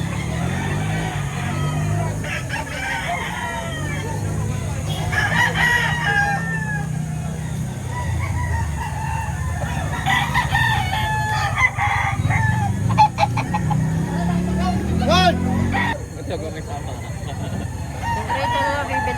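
Roosters crow repeatedly among clucking chickens at a Saturday chicken market in Lipa, Batangas, several calls rising over a busy crowd backdrop while people talk and haggle nearby.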